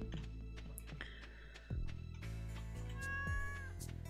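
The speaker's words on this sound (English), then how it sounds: "There you go, little kitty cat." Cat meowing in the Stardew Valley video game: a few short meows heard over looping game music and background effects, moderately loud.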